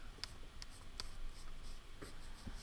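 Pencil marks drawn onto journal paper: a few soft, brief scratchy strokes spread irregularly across a quiet background, close and faint, with no talking.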